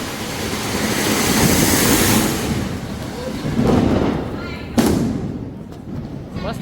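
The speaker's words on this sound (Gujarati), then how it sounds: "આજે છે દિવાળી, જો મસ્ત મજાની બધા ફટાકડા ફોડે છે" Diwali firecrackers burst outdoors during the festival: muffled booms and rumbling blasts over a steady noisy background, with one sharper crack near the end. Voices can be heard among the noise.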